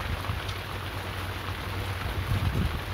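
Steady rain patters on a small fishing boat at sea, a constant broadband hiss with a low rumble of wind and water underneath, with no voices.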